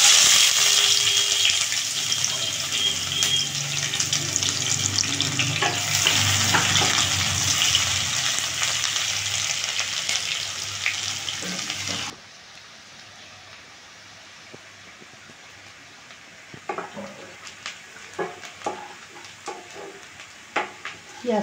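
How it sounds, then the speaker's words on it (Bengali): Chopped onion fries in hot oil with a loud, dense sizzle for about twelve seconds, then the sound drops to a quieter background with scattered clicks and stirring taps. "পেঁয়াজটা এখনো ভাজা হয়নি ভালো করে,"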